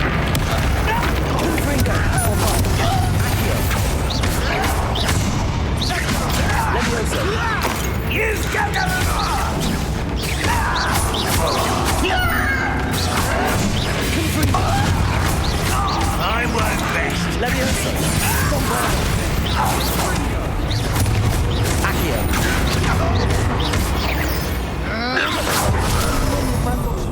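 Spell blasts and impacts from combat in the video game Hogwarts Legacy, crashing and booming repeatedly over dense game music and effects, with a voice speaking throughout.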